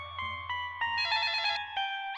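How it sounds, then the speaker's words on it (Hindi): A telephone rings in a Hindi TV serial household scene: a bright electronic trill repeating in quick bursts, fairly loud and clear, with a low hum beneath and no talking over it. "ये फोन बजा"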